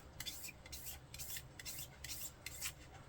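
A sharp hobby scraper drawn repeatedly across a seam line on a 1/35 scale plastic model kit of a German WWII gondola wagon, quiet rhythmic rasping strokes about twice a second.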